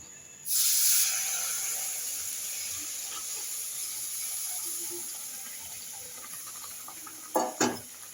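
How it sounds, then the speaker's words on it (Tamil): Tamarind water poured into hot oil in a pan while cooking a Tamil manathakkali kuzhambu, a sudden loud sizzling hiss that bursts in and keeps frying steadily, with a couple of short clatters near the end. "அப்படியே புளி தண்ணியை ஊற்ற வேண்டியதான்."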